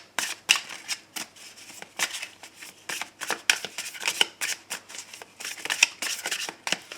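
Tarot cards are shuffled and cut by hand, giving a quick, irregular run of crisp riffling slaps and flicks, close and fairly quiet, with no talk over it.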